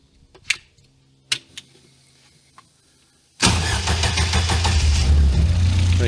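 A crash-damaged Caterham 270R race car, started by button with no key, sits silent apart from a few faint clicks, then its engine fires abruptly into a loud, steady, rumbling idle that continues to the end.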